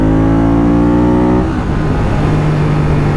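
A motorcycle engine revs hard and loud, a steady rising drone that breaks into a rougher, sputtering roar about halfway through, with no talking.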